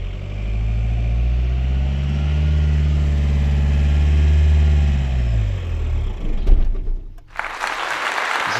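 A car engine holds a steady high rev around 2000–2500 rpm, then drops as the clutch is released and the engine stalls, ending in a brief clunk and shudder before a noisy hiss, close and loud.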